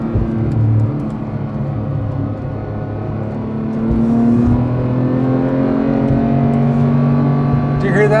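Porsche 991.2 911 GT3 engine revving steadily around 6,000 RPM, a loud, sustained, rising mechanical drone heard from close by, with faint voice underneath.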